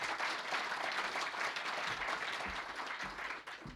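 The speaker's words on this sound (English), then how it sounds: "Give Alex a round of applause." Audience applause at a Medical Devices Fund question-and-answer event: dense, steady clapping from a crowd that holds at an even level for several seconds and then begins to thin out near the end.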